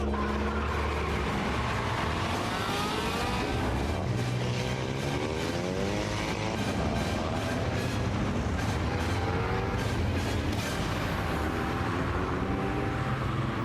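Tuned cars race on a street at night, several engines revving and rising in pitch as they accelerate past, a loud continuous roar with overlapping sweeping whines and no talking.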